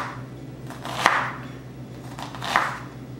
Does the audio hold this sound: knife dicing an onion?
yes